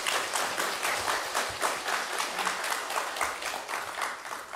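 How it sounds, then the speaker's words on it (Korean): Steady applause from a church congregation at a Sunday service, many hands, sustained and even throughout with no pauses. "우리 박수로 환영하겠습니다"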